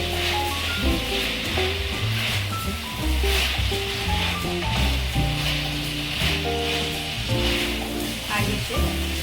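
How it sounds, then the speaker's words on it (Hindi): Crispy potatoes frying in hot oil give a steady, fairly loud sizzling hiss, partly covered by background music that plays throughout. "2 मिनट तक फ्राई करते रहेंगे।"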